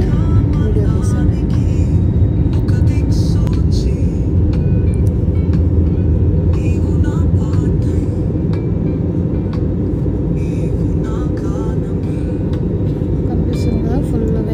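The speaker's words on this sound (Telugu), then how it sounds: "ఇంకా ల్యాండ్ అవుతున్నాము అనేటప్పుడు వీడియో తీసాను" Cabin of a passenger airplane descending to land at Hyderabad at night, a loud, steady low engine and airflow rumble fills the whole stretch without breaks.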